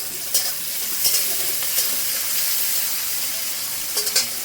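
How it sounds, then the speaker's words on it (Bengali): Bitter gourd (karela) with salt sizzling and frying in a pan, a steady close hiss with a few brief louder spatters and stirring scrapes throughout. "দিয়ে দিচ্ছি লবণ। একটু ভেজে নেব।"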